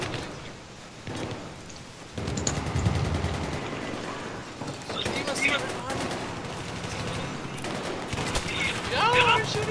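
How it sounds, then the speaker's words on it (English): Dense gunfire from Battlefield 3 multiplayer rattles in rapid bursts and scattered shots, some distant and some nearer, while excited players shout and talk throughout. "They're shooting at us!"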